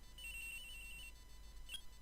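A faint electronic phone ring from the video game Phoenix Wright: Ace Attorney: a thin, steady chirping tone that holds for about a second, then a short second blip, over a low, quiet hum.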